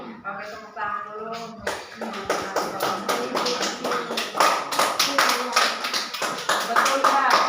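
A primary school class claps hands together in a rhythmic patterned beat after a spoken lead-in, close and lively, with voices mixed in.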